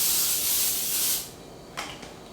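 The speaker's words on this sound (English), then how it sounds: "Get a little baking spray." A close, loud hiss of a baking spray can spraying for about a second, then stopping, followed by a short second puff.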